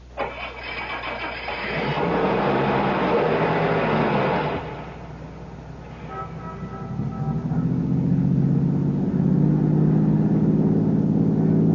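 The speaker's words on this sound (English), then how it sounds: "Start your car." A car engine cranks and catches in a 1975 radio drama sound effect, revving loudly for a few seconds, dipping briefly, then settling into a steady low rumble as the car drives off.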